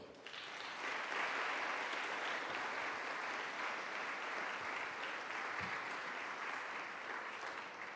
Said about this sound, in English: can we please give a big round of applause to our friend Mark Kornblue